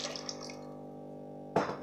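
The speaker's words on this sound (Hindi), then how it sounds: "मैंने 4 कप पानी डाल दिया" Water is poured from a cup into a pot of rice for daal chawal, heard as a brief splashing gush near the start and another short pour near the end; close and faint, with a steady background hum and no talking.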